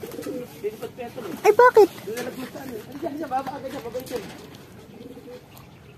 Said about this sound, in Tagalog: Ayan na mga kalapatid.